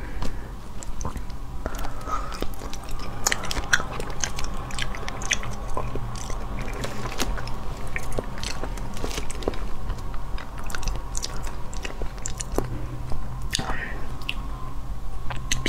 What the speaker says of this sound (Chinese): 蘸点酱油辣根儿尝尝啊。